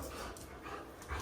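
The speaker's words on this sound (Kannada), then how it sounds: "ನಾಯಿ" A dog pants and whimpers close by in soft, uneven bursts over a low rumbling background.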